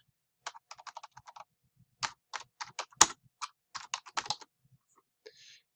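Typing on a computer keyboard while entering a quiz question, with bursts of quick, close, crisp keystrokes separated by short pauses and no talking.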